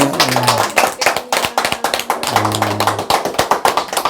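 A small group at a close indoor gathering claps in quick, uneven bursts, sharp and near, while low voices murmur and hum underneath.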